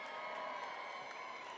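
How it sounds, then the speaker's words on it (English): A large audience applauds and cheers for the RodeoHouston 2026 entertainment lineup reveal, a steady wash of clapping and crowd noise that holds evenly throughout with no break. "So how about another round of applause for our lineup?"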